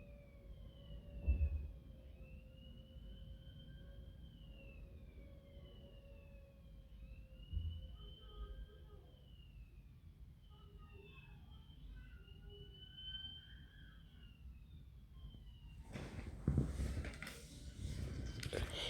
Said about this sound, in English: the siren is just going up in the background because my house is close to the road